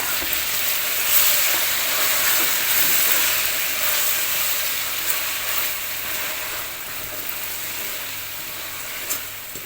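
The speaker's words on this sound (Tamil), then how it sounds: "சேர்த்துட்டு இஞ்சி பூண்டு வாசம் போகிற வரைக்கும் வதக்கி விட்டுருங்க" Ginger-garlic paste sautés with onions in a large batch of chicken biryani for 25 people, a loud, close, continuous sizzle and hiss with occasional scraping stirs, steady throughout.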